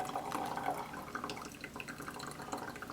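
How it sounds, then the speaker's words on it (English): Hot water poured over coffee grounds in a Chemex, a soft trickling and dripping stream that runs steadily and quietly, close by with no voices. "Now I'm going to do the second brewing pour."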